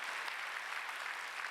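A church congregation at a Wednesday worship service applauds in one steady, even wash of clapping, heard from a distance and fairly faint.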